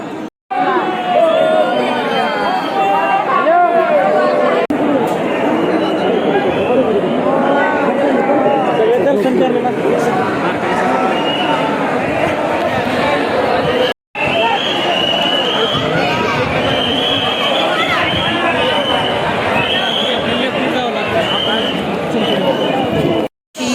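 Dense crowd at the Pune Ganpati festival at night, a loud continuous hubbub of many overlapping voices close around, with two brief dropouts.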